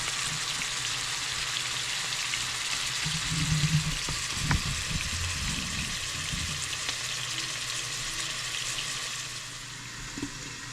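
Chicken breast frying in a new pot, a steady hiss and sizzle running throughout with a few faint clinks and scraping stirs, no one talking.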